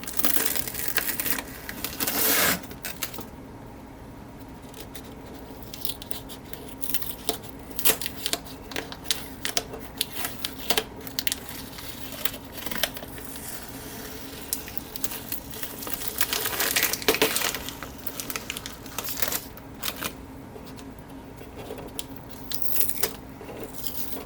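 Masking tape is peeled off the deck of a model ship, giving crackly, crinkling tearing bursts that come in irregular clusters, loud and close, with quieter pauses between pulls; no talking.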